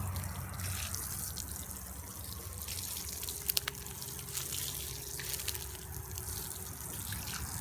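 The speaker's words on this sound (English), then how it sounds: "I seeded more here, so I have to give it a nice little watering" Water sprinkles steadily onto freshly seeded, soft garden bed soil mixed with coconut coir, a continuous close trickling and pattering spray with a few small clinks along the way.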